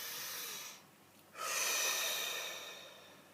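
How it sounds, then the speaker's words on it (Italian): A single deep breath drawn in during a guided relaxation moment, soft and airy, a quiet inhale followed by a fuller exhale, close and alone with no talk. "facciamo un bel respiro profondo"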